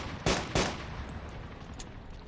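Gunfire in Arma 2: two sharp, loud close shots in quick succession, followed by fainter distant cracks and a lingering background rumble, with no talk.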